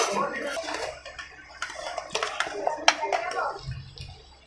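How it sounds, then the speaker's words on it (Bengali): Rice tipped into an oiled pot for homemade chicken biryani, a scatter of soft pattering and clinking as grains and utensils hit the metal, with a person talking over it. "এবার আমি ভাত দিচ্ছি।"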